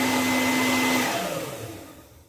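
A hair dryer runs loud and steady at close range, then its hum winds down and fades as it is switched off, with no talk over it.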